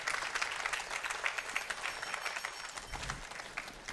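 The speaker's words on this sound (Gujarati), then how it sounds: "આપણે તાળીઓથી ઓજસભાઈને વધાવીએ" An audience claps together in welcome of a guest at a Swaminarayan religious discourse gathering, dense and sustained applause filling the hall at steady loudness for the whole stretch, without any talking over it.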